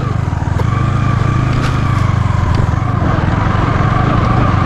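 Motorcycle engine running steadily and loudly close by during an off-road ride, a continuous low throttle drone with no pauses.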